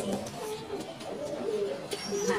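German Beauty Homer pigeons coo softly in a loft, low throaty calls repeating over steady background noise, with no talk.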